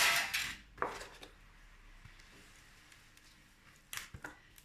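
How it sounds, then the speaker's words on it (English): A metal spoon scrapes and taps as chocolate crunchie mixture is tipped into a prepared baking tin, with a few sharp clinks at the start and end and quiet handling between. "that you add into your prepared tin"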